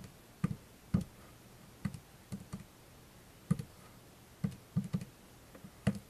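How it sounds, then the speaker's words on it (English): Keys pressed on a graphing calculator keypad, a sparse series of soft, close clicks in small irregular clusters over a quiet background. "You can go to your graphing calculator, type in what we're looking for."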